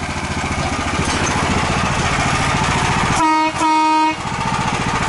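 The horn of a homemade tractor blares once in a short, loud burst, briefly cutting out and resuming, over a steady engine rumble.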